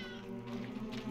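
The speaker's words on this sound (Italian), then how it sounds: "Verdammte Katze, komm hierher!" Cat in the World War I video game 11-11 Memories Retold gives a single drawn-out meow, faint and brief over a soft, sustained tonal background.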